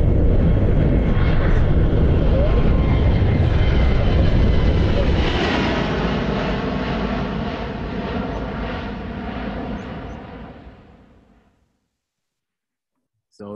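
An Airbus A350-1000 airliner takes off with a loud, steady broadband jet roar that sounds close at first, then slowly fades over about eleven seconds and ends in silence.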